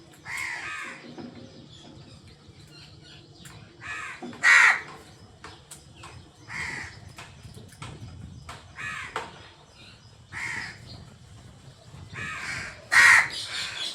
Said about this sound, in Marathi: बापरे, एवढे कावळे आले.